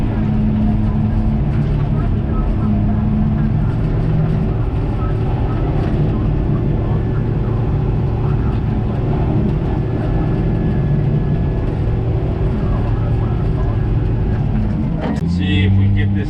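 A Komatsu D51 bulldozer clearing a tree stump, its diesel engine droning loud and steady with low rumble, a brief clank and surge near the end, under intermittent talk.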